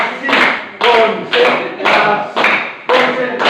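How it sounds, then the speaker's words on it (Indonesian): A group plays the 'tepuk konsentrasi' clapping game, with six sharp rhythmic bursts of claps in a steady beat, each mixed with loud voices chanting together. "Tepuk konsentrasi, gitu ya."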